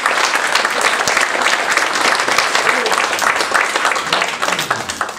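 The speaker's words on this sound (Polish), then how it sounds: "Duże brawa dla artystki" Applause from a gallery-opening audience for an artist at her exhibition in Bolesławiec, a dense steady clapping crowd that is fairly close and sustained, thinning slightly near the end.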